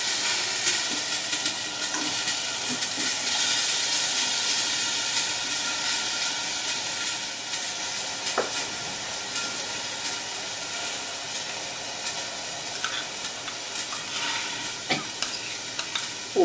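A pan of grilled lobster sizzles and hisses loudly and steadily after a splash of pastis, a continuous close frying roar with occasional crackles, no voices.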